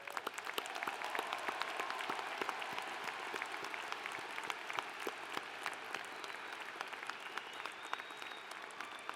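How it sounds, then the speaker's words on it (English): A large audience applauds at a spring 2019 university commencement ceremony, steady sustained clapping heard from a distance across the whole stretch with no break. "Please join me in showing our appreciation with a round of applause for all of their efforts"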